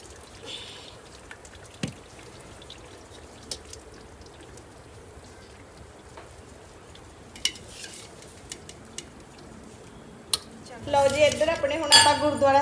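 Metal cutlery and dishes clink and clatter as they are gathered together in a home kitchen, light scattered taps through the first part, then a louder, denser burst of jangling utensils and pots near the end.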